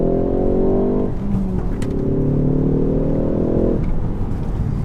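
An old-school hot hatch engine drones loudly in two sustained pulls, settling briefly between them, with faint crackles riding under the steady exhaust note.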